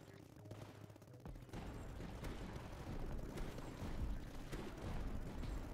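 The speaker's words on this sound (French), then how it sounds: "on a des tours de sniper" In the Tower Dominion strategy video game, sniper towers fire in a dense, continuous crackle of distant-sounding gunfire and impacts, faint and steady under someone speaking French.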